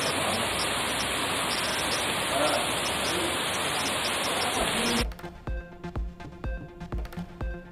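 Heavy monsoon rain pours down steadily in Udhagamandalam (Ooty), Nilgiris, a loud dense roar for about five seconds before cutting off abruptly, followed by quieter clattering and knocking sounds.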